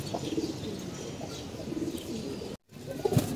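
Large and small domestic pigeons coo in soft, rolling bursts, a continuous low burble close by with a brief break near the end before a sharper call.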